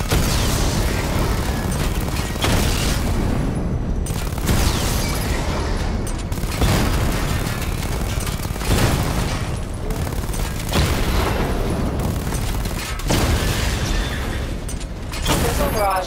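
Missile barrage fire in Batman Arkham Knight: repeated loud booming blasts and rumbling bursts roughly every second or two, dense and continuous throughout.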